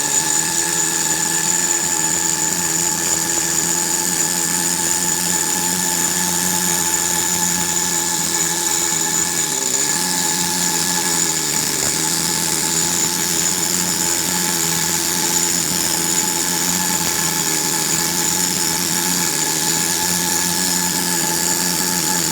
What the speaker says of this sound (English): Remember my big air hammer I showed you?